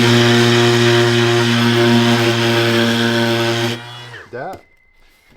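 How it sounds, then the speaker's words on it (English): A power sander whines steadily with a buzzing hum on wooden ribs of an enclosed trailer, then cuts off abruptly, followed by a couple of brief scraping sounds. "the ribs or whatever, I can take down really quick with a sander."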